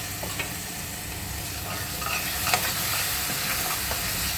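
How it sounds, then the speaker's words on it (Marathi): Tomato paste frying and being stirred in a pan with ginger, garlic and onion for chole masala, a steady close sizzle with soft scraping strokes and no talking. "अद्रक लसूण कांदा चांगल्या प्रकारे फ्राय झाल्यानंतर त्यामध्ये आपल्याला टोमॅटोची पेस्ट टाकायची आहे"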